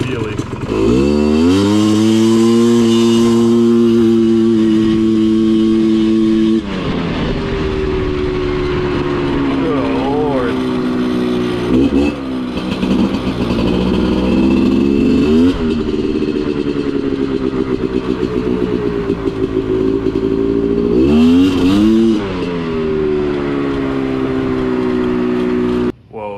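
A ported Polaris 400 two-stroke engine rips at full throttle, close and loud, its buzzy, raspy wail climbing in pitch, dipping and climbing again through repeated throttle surges, nearly continuous for the whole stretch.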